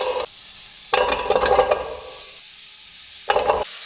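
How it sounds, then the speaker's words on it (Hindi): Chopped carrots tumbling into a large pot on a lit stove, two distinct rattling bursts of pieces dropping in, the first longer, the second short, with quiet pauses between. "इसके अंदर कटी हुई गाजरें ऐड करेंगे"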